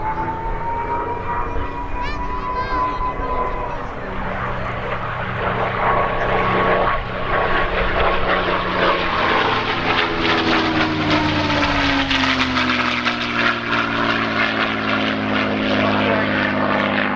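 A propeller aeroplane with drop tanks flies past at an airshow, its engine drone swelling from distant to loud and then shifting down in pitch as it passes, with a commentator talking over it.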